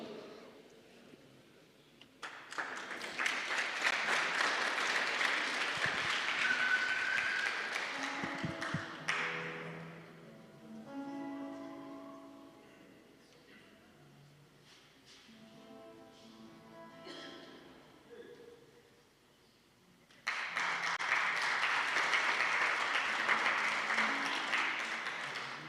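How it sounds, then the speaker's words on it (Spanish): A church congregation at a Sunday service claps in a loud sustained burst, then quieter tapping, pings and a voice fill the middle before a second strong round of applause starts near the end. "Vamos a recibir con un fuerte aplauso"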